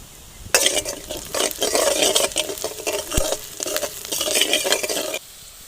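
Curry leaves frying in a pan for a village-style egg yolk fry, bursts of loud close sizzling and crackling with scraping stirring strokes, running continuously for about five seconds before cutting off.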